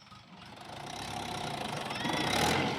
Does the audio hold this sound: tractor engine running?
yes